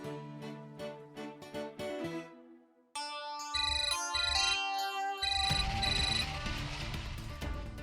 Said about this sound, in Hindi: शनाया फोन उठाओ यार